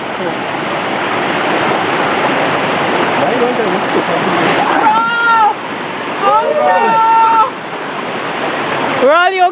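The Morne Longue River in Grenada rushes and roars loudly and steadily close by, while voices talk and call out over the flowing water.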